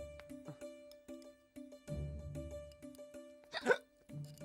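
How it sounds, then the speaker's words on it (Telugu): A man hiccups repeatedly in a comedy scene, each sharp gulp landing in a steady rhythm over a soft musical background, with one louder vocal burst near the end. "అదేంట్రా అన్నయ్య 2 సార్లు వినబడుతున్నాయి ఎక్కిళ్ళు?"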